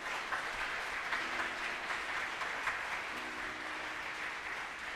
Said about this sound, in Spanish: Dele un aplauso al Señor por esa palabra.